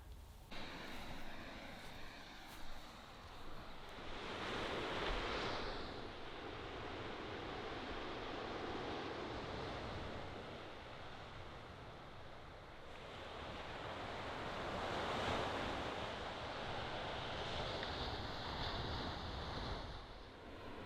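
Ocean surf on Australia's east coast washes onto the shore in broad rushing swells that rise and fall roughly every ten seconds, steady and fairly close, with no voices.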